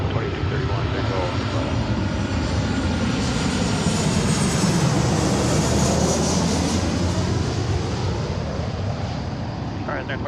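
Heavy Airbus A350 jet on landing approach at Seattle, a loud, steady broadband engine roar that swells gradually toward the middle as the aircraft passes nearby, then eases off slightly, with no talk over it.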